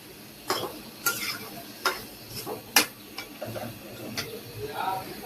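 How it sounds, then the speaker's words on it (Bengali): Goat meat sautéing slowly in a pan for kosha, a soft steady sizzle under scattered sharp ticks and clinks of a spoon stirring against the pan, close and moderately quiet, no talk. "খাসির মাংস এখনো রান্না করা হয় নাই, তো এটাকে এখন কষানো হইতাছে"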